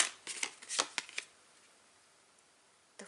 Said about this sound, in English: Tell me to shuffle a little bit more.